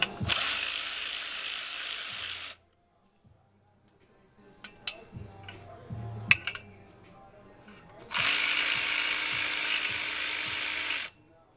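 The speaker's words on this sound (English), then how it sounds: "I could have used a ratchet wrench, which I'm probably going to get in a second" A ratchet wrench works bolts loose while the clutch of a Genesis Coupe is stripped for a Stage 3 clutch install. Two loud, rapid buzzing bursts up close frame a quieter middle of scattered metal clicks and knocks.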